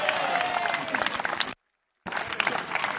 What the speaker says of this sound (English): Big round of applause for the coaches